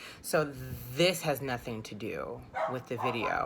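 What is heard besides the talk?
dog barking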